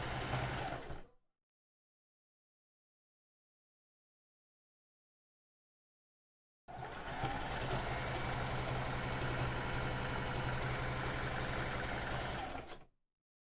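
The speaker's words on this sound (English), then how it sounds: "I hate sewing machines so much" A sewing machine runs at a steady, dense mechanical whir for about six seconds after a short burst and a stretch of silence, loud and close with no talking.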